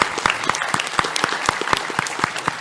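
A crowd claps at a live gaming podcast recording at a convention. The applause is dense and close, with sharp individual claps throughout a short burst.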